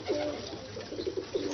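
Ali wale pigeons in a loft give soft repeated coos, several short close calls in quick succession over a quiet room.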